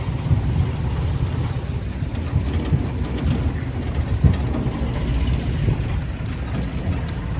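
A tractor engine running in a rural cattle setting, a steady low rumbling drone with a constant mechanical hum throughout, moderately loud and unbroken, with no voices.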